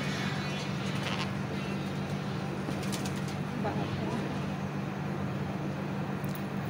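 Pigeons coo softly on a windy rooftop, low repeated calls sitting under steady wind noise with faint traffic in the distance.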